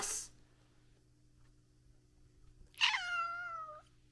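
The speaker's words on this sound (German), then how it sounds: "Der Zorro miaut nur so, weil der das Leckerli haben will." A cat gives one drawn-out, falling meow near the mic after a short noise burst at the start, with a quiet indoor hum and no talking.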